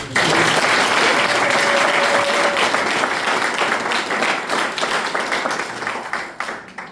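Loud sustained applause from an audience at an official ceremony where documents are handed to a monarch, dense clapping filling the whole stretch with a brief tonal tone early on, then gradually thinning toward the end.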